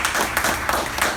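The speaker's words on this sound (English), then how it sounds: "Can we have a huge round of applause for Toastmaster Gaurav?" Brief burst of audience applause at a Toastmasters club installation ceremony, a dense patter of clapping from a room full of people, fairly loud and close, with no talk.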